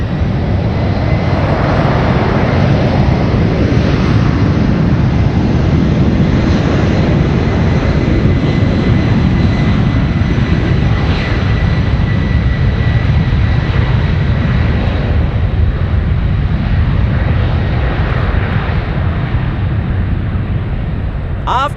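A jet airliner departing San Francisco for JFK roars steadily and loudly throughout, a dense continuous engine rumble with no break.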